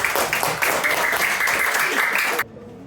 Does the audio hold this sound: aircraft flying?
no